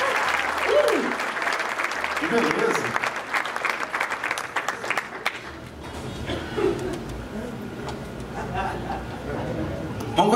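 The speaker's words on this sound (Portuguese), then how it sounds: "uma salva de palmas para os nossos astros" Audience applause at a hypnosis show, loud and dense for about five seconds, then fading to scattered clapping and crowd murmur, with someone speaking over it.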